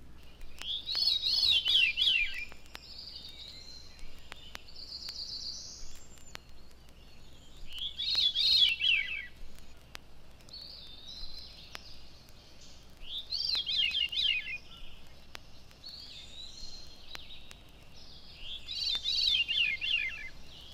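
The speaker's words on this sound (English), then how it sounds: "Now the descending spirals of the veery" Veery song drifts through an evening woodland at Sapsucker Woods, several descending, spiraling phrases repeating every few seconds at moderate distance, with quiet background between.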